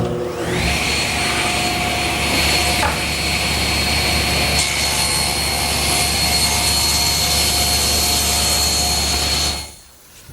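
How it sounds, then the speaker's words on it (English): A table saw rips along the edge of a board in a continuous loud, steady whine lasting close to ten seconds, then winds down and cuts off at the end. "Now I'll just move the fence a 1/16 of an inch closer to the blade and rip the other edge."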